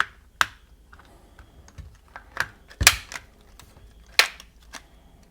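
Plastic clips snapping loose as a PlayStation 5 controller shell is pried apart, a handful of sharp, close clicks and snaps scattered irregularly over a few seconds with no talking.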